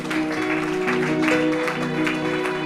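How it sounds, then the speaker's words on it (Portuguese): A congregation at Igreja Shalom in Aveiro, Portugal, claps for Jesus during a service; rapid crowd clapping runs through the stretch, mixed with sustained tonal sound, likely music or voices. "Dê uma salva de palmas para Jesus"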